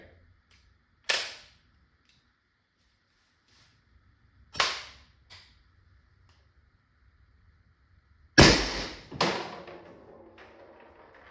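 Valken M17 airsoft gun firing Grimburg FAR projectiles through a stock factory barrel from an SMG mag: four sharp, separate pops spaced a few seconds apart, the last two louder and close together, with quiet gaps between.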